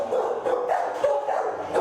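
A young, abandoned Pekingese kept in a crate at a county animal shelter barks in a string of short, fairly loud yaps and yips, close and alone with no talk over it.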